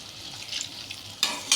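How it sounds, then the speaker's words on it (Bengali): Ground spice paste sautéing in a pan, a soft low sizzle followed by two sudden louder bursts of hissing near the end as the paste is stirred or water is added. "দিয়ে মশলাটাকে আমি একটু কষিয়ে নেবো"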